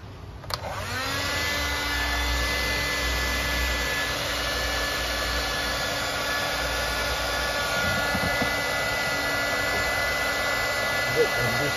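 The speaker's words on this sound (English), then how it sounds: "Or nowadays I tend to use a hairdryer." A hair dryer drying scale-model diorama gunny sacks blows with a steady, whining roar that starts abruptly and runs continuously at an even level.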